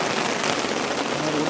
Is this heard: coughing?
no